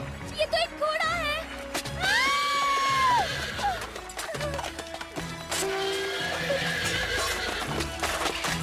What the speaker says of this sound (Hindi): ये तो एक घोड़ा है।